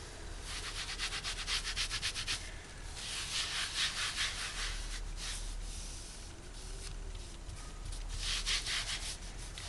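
Fabric being painted is rubbed by hand in close, quiet, rhythmic scrubbing strokes with short pauses, and nobody speaks.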